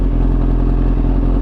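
A tuned Kawasaki H2 motorcycle of about 250 horsepower rides along with a loud, steady engine drone and mechanical clatter, heard close up from the rider's position.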